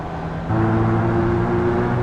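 A Spec Racer Ford's engine in iRacing opens up from a low idle into a steady, loud droning pull after about half a second, holding a constant buzzing tone with no talk.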